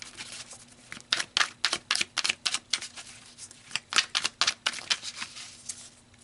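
Tarot cards are shuffled and pulled in a rapid run of crisp papery riffs and snaps, close and fairly quiet, with no talking.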